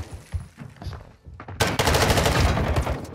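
Gunfire in Call of Duty Modern Warfare 2, a few separate shots followed by a dense, loud burst of rapid automatic fire that continues to the end.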